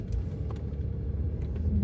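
Inside a moving car, a steady low engine and road rumble drones continuously and fairly loud, with no voices over it.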